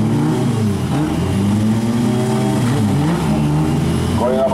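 Drag race cars, a Toyota Chaser against an all-wheel-drive Evo, launch at a drag strip shootout with loud, close engine roar and rising harmonic revs that climb and shift near the end, under a steady wash of crowd and track noise.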